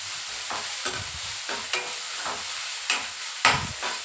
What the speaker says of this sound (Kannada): ಶುಂಠಿ ಬೆಳ್ಳುಳ್ಳಿ ಪೇಸ್ಟ್ ಹಸಿ ವಾಸನೆ ಹೋಗೋ ಥರ ಹುರ್ಕೋಬೇಕು